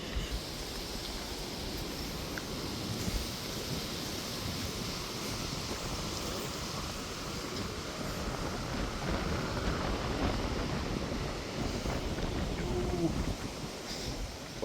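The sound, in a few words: strong wind on a mountainside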